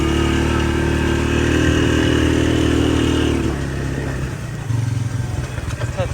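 A four-wheeler ATV, recently repaired after major problems, runs with a loud, steady engine drone close by, then drops to a rougher, lower idle partway through. Someone talks over the engine noise.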